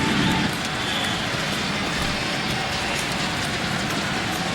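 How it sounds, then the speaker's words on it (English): Steady rain falls over an outdoor baseball stadium during Game 5 of the 2005 ALCS between the Angels and White Sox, a continuous broadband hiss that stays even and fairly loud throughout. "Rain continuing to fall."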